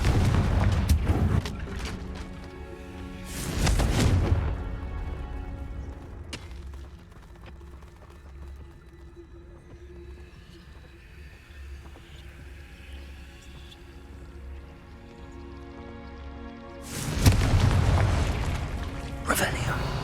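Confringo blasting spell explosions in the video game Hogwarts Legacy: deep booming blasts near the start and again near the end, with a quieter rumbling stretch between them.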